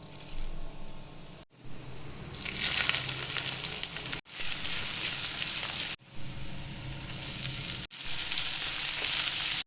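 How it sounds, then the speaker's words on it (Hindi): Loud, crackling sizzle of cumin and asafoetida in hot oil left from shallow-frying potatoes, steady and close, broken by a few brief pauses. "शैलो फ्राई करने के बाद जो बचा हुआ तेल था उसमें मैंने डाला जीरा और हींग का तड़का"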